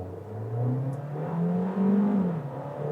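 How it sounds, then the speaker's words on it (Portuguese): A Fiat Fastback 1.3 Abarth launches and accelerates, heard from inside as the engine note climbs steadily in pitch through the revs, then eases briefly before rising again, with no talking. "Vamos estolar o carro e vamos sair, ó."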